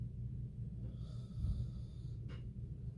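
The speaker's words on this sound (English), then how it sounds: "he's snoring really loud." A person snoring at night, with faint, close breathing and snorting sounds over a low rumble, including one sharp snort near the end and no talk.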